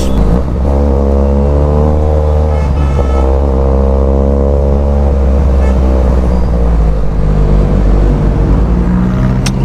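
A Ferrari 458 Italia idles and revs lightly outside sport mode, a close, loud, steady engine drone with rising and falling harmonic tones, no talk over it.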